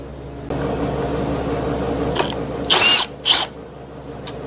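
Ratchet working loose the three T30 Torx bolts on a 2012–2018 Ford Focus dual-clutch transmission: two short, bright bursts of clicking close by, ahead of a quieter metallic tick, over a steady low hum.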